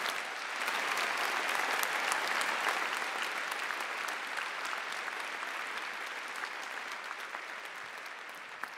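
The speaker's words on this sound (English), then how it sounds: "Please join with me in a round of applause." An audience at a university postgraduate graduation ceremony gives sustained, even applause, a dense wash of clapping that holds steady for several seconds and then slowly thins, fairly faint and distant with no voices over it.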